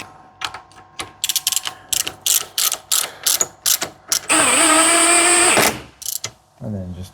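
Ratchet clicking rapidly while tightening a nut on a rear axle bush bolt of a MK7 Ford Fiesta, close and loud in quick bursts, followed by a longer continuous whirring mechanical stretch and a brief voice at the end.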